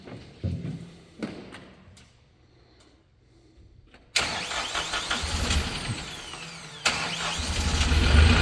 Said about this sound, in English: We're going to bring this Kohler engine to life,